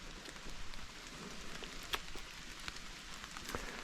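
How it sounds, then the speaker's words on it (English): Steady rain falls outdoors after a long dry spell, a soft even hiss with scattered individual drops tapping close by, and no voices. "It's raining today."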